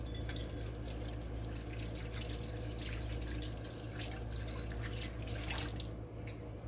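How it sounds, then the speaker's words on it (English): Hands being washed under a running kitchen tap, a continuous close rush of water with small splashing variations, steady throughout with no talk. "Wash my hands off"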